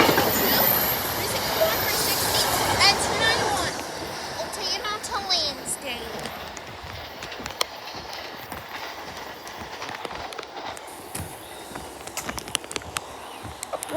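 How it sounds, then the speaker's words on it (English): A SEPTA-style Silver 4 commuter train rumbles past at Elkins station, a loud rolling roar that fades into rhythmic wheel clicks and rattles, with voices heard along the platform. "We have the West Trenton train coming in."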